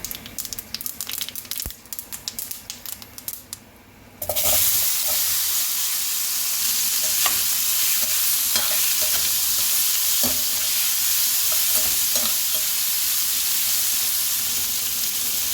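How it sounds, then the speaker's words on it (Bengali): Amla pieces dropped into hot mustard oil with asafoetida and nigella seeds in a kadai burst into a loud, steady sizzle after a few seconds of quieter stirring, continuing close and even to the end. "এবার একটা কড়াই গরম করে সর্ষে তেল গরম করে হিং ও কালো জিরে ফোড়ন দিয়ে আমলকিগুলো দিয়ে দেব।"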